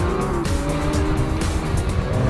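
A Lamborghini with a naturally aspirated 6.5-liter mid-mounted V12 producing 690 horsepower, driving with a loud, steady engine roar and a sharp whine climbing through the revs, heard up close throughout.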